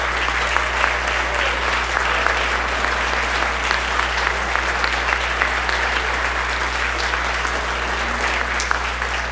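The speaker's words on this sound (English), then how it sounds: "Let's give them both a round of applause." A school music awards ceremony audience gives steady, dense applause that holds at an even level throughout, over a low electrical hum in the hall.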